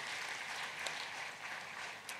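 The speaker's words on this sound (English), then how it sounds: "Let's give a round of applause to President Salva Kiir." Audience applause for President Salva Kiir at a heads-of-state summit on climate, a steady, dense wash of clapping from a large hall, fairly faint and even throughout with no voices over it.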